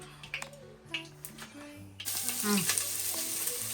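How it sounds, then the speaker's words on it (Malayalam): Thinly sliced onions drop into hot ghee for chicken biryani; after a quiet stretch of light clinks, a loud, close sizzle bursts in and keeps going. "ഇങ്ങനെയാണ് നമുക്ക് സവോള വറുക്കാനിടാം."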